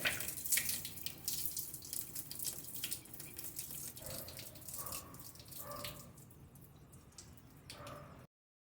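Water runs from a normally open solenoid valve on a prototype flow-metering rig, a steady tap-like stream splashing into a basin, with faint drips and trickles alongside.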